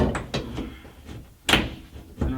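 Pry bar working the rear window rubber on a 1970 C-10 pickup, with scattered scraping knocks and one sharp thud among quieter shuffling, close up and fairly loud.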